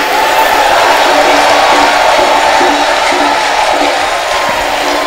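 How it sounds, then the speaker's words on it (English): A church congregation bursts into loud applause mixed with cheering, whoops and shouting, a dense and steady crowd roar that fills the space. "Let's give God a round of applause and a shout."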